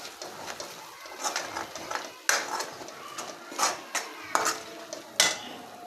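Masala gravy for butter paneer fries in oil in a pan, with steady sizzling under irregular clinks and scrapes of a spatula against the metal.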